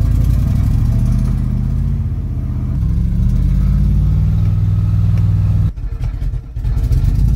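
A 1978 Dodge Adventurer motorhome's large engine revs steadily under throttle, its pitch rising and falling, with a brief drop and clatter near the end.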